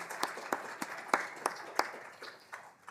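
Scattered clapping from a modest audience at a university awards ceremony, distinct individual claps in an uneven rhythm rather than a dense roar, fairly close and steady for about three seconds.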